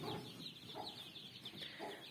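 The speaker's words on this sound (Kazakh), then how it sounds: "Жалпы балапандар осы" Young incubator-hatched chicks kept warm under a cloth cover give a steady run of small, high peeps, repeated closely and continuously at moderate volume with no voices.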